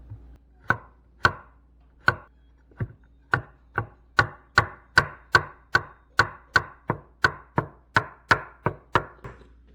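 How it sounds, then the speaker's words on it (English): A knife chops freshly harvested garden onions on a cutting board in a sharp series of close, crisp knocks, sparse at first and then settling into a quick, even rhythm of about two strokes per second, with no talk. "I know there's probably a better way to chop these onions up."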